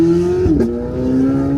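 Chevrolet-engined Ferrari with a close, loud engine note that holds, dips sharply on a downshift blip, then settles back into a steady drone.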